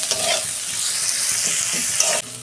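Onion fries in oil with a little salt, giving a loud, close sizzle and stirring scrapes that stop abruptly near the end.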